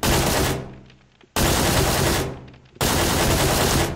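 Three loud, sustained bursts of automatic gunfire in the PUBG battle royale game on the Sanhok map, each roughly a second long and separated by brief pauses, close and dominant with no talking.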